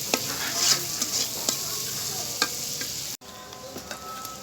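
Onions frying in a pan while being stirred, a steady hiss of hot oil broken by scraping spatula strokes, with a brief sharp cut in the sound near the end.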